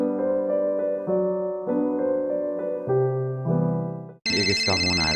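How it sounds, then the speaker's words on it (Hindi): A phone ringtone plays a looping electronic melody of steady, pitched tones, loud and close, and a brighter, busier burst of sound cuts in near the end. "ये किसका फोन आ रहा है?"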